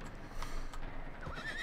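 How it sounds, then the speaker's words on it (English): A horse in the video game Red Dead Redemption 2 whinnies once over steady background noise, with a few soft hoof clops; no talking. "Calm the horse."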